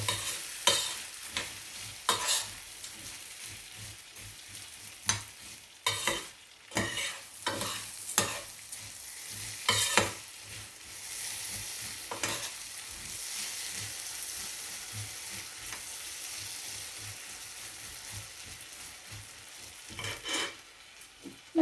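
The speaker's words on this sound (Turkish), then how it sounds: "bulgurum ve eriştelerimi yavaş eriştelerimi kırmadan karıştıracağım" Bulgur and noodles being stirred gently in a pot, with repeated soft scraping strokes and light clinks of a spoon over a low, steady sizzle, close by and fairly quiet, with no voices.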